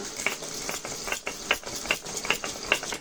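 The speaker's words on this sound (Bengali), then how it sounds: "এদিকে শিল নোড়ায় এগুলা গুঁড়ো করে নেব" Spices being ground by hand on a Bengali sil nora grinding stone while cooking aloo phulkopir jhol, heard as repeated rhythmic scraping and knocking strokes, close and moderately loud, with no talk.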